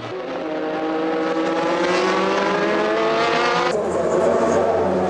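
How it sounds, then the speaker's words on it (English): A VW turbo-engined Reynard race car, last year's model, driven at night at Le Mans in 2001, roars past near and loud with steady rising engine harmonics, the pitch shifting abruptly as it passes. "this VW turbo engine Reynard, last year's car, being very sensibly driven by Delatraz and Genet"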